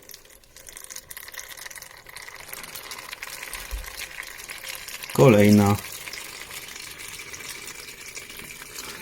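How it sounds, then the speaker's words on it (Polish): Water pours briefly in a short burst midway onto wheatgrass growing trays in an irrigation tower, splashing and gurgling, amid quiet background noise and a single spoken word. "podlewana jest kolejna tacka"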